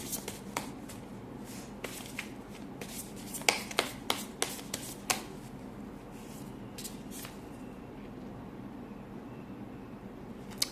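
Tarot cards drawn and shuffled from a second deck, heard as quiet papery riffles and sharp flicks of card against card, clustered in the first half and thinning out later, with no voice over them.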